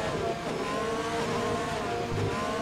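F1 race car from the F1 2020 video game accelerating on a restart, a loud, sustained engine drone with shifting whine throughout and no talk.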